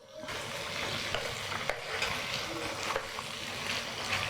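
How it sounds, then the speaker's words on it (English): Prawns stir-frying in a pan with kaffir lime leaves and sweet-spicy sambal, giving a steady close sizzle and hiss with occasional scraping clicks and no talking. "Next is the prawns. Cook until all the prawn is cooked."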